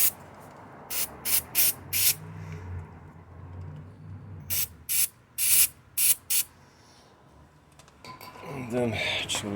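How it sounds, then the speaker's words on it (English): Short hissing bursts of electric cleaner sprayed onto the trunk latch of a Mercedes E350 that will not lock, coming in two clusters of quick spurts with quiet gaps and faint handling noise between. "I'm gonna use this electric cleaner"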